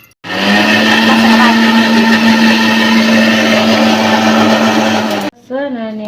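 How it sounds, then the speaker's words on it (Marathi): Mixer grinder grinding masala for chicken biryani, a loud steady whirring motor hum running continuously for about five seconds before cutting off abruptly, followed by a brief fading tail. "तो मसाला आपण बारीक करून घेऊ मिक्सरमध्ये"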